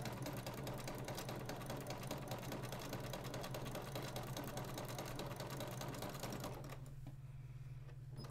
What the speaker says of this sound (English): Make sure you sew those on those lines again.